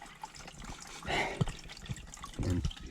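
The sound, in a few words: water draining from Miele washing machine filter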